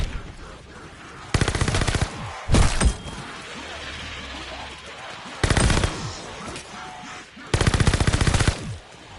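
A 3-Line rifle blasts in a zombies shooter game as four loud, separate bursts of gunfire spaced a few seconds apart. Quieter game ambience fills the gaps between them.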